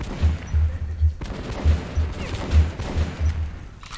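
Shotgun blasts in Metro 2033 Redux, a run of heavy booming shots roughly every half second over a rumbling low-end background, with no speech.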